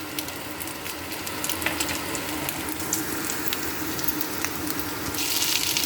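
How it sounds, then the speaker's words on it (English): Cabbage hits a hot stir-fry with marinated pork, a continuous hiss and sizzle with small crackles and stirring clatter, loud and close, building slightly toward the end. "Our pork is ready, so we have to put in the cabbage."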